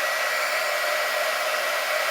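A hair dryer blows continuously on a vinyl model kit with a steady, even whooshing roar, close and loud, with no other sounds.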